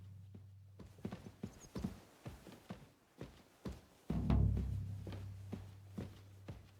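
Horse hooves clip-clopping in Kingdom Come: Deliverance 2, a steady walking rhythm of distinct hoof strikes, fairly close, with a low drone underneath and a brief louder rumble midway.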